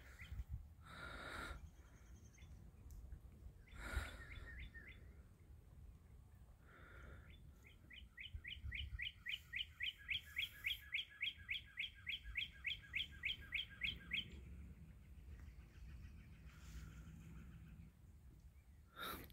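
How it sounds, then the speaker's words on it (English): A woodpecker calls on a morning outdoors, giving a fast, even series of sharp repeated notes partway through, with a few other short chirps and rustling before and after. "Woodpecker's busy this morning."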